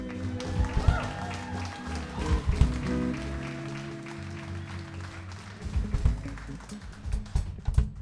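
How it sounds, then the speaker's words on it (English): A live audience applauds the house band on a radio-hour stage. A burst of clapping and crowd noise swells, mixed with a voice and some tonal sound, then picks up again near the end. "Y'all give this house band another big round of applause."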